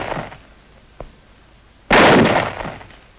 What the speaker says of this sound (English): Fire one, real close, Preacher.